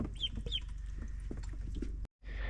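Farm ducks or poultry clucking and calling in quick bursts close by, with a brief silent gap near the end before the calls resume.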